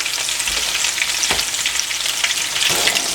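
Food fries in a level skillet with a loud, dense, continuous sizzle and a couple of soft knocks, no voices.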